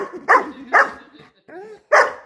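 A Belgian Malinois gives several sharp barks close by, with a short whimpering yelp between them.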